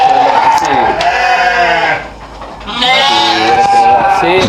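Sheep bleat loudly and repeatedly at close range in a Dorper and Awassi breeding pen on a farm, with a brief quieter gap in the middle before more bleating.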